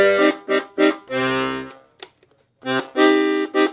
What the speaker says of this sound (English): It has a full 120 basses with two registers that sound like this.